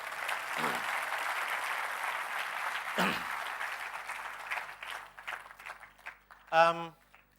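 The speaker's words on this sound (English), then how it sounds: "I want to give a big round of applause for that" A round of applause from an audience at a CEO's talk, sustained clapping that fills the room for several seconds, mixed with voices, then tapers off into scattered claps and a brief vocal sound.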